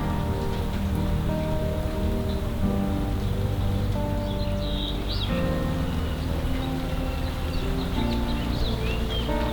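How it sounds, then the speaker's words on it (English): Rain falls outside while heard from inside a garage, a steady, even patter and hiss that runs unbroken throughout with no talking. "because it's raining outside"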